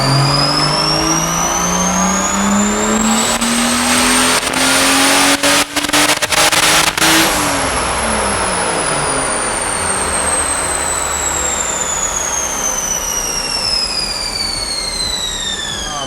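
A 2JZ-powered Toyota Supra with boosted tuning screams through a loud, continuous dyno pull, engine pitch climbing steadily for several seconds and then falling away as it winds down, with no talk over it.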